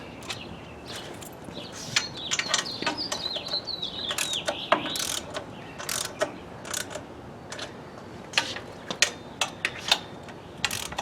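Ratchet clicks and metallic mechanism sounds from tightening down the bolts of a Ransom Rest mobile mounting system mock-up, coming in irregular close bursts of sharp ticking with brief pauses between them.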